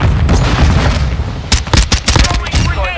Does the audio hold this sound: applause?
no